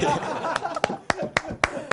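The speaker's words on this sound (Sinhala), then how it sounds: "කෝ කට්ටියම හොඳ ක්ලැප් එකක් දෙන්න ඕනේ ඒකට" An audience at a school event claps in a few scattered, sharp hand claps rather than full applause, mixed with murmuring and light laughter.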